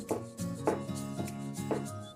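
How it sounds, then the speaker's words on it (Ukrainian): A knife chops boiled eggs on a cutting board in a steady rhythm, about seven crisp knocks, close up with no talking. "Міленько нарізаємо яйця."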